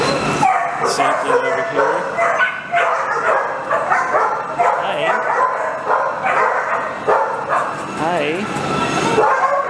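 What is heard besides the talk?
dogs barking in kennels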